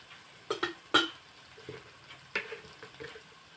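Spice powders (coriander, chilli, turmeric) being stirred into frying onion masala for a home-style chicken curry, with a few distinct spoon scrapes and clinks over a faint background sizzle, close and fairly quiet.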